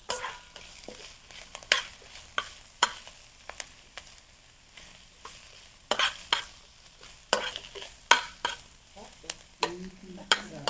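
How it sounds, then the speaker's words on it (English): Onion and garlic sauté in a pan with a soft, continuous sizzle while a spoon stirs and scrapes, giving sharp clacks and scrapes at irregular intervals close by. "Saute it."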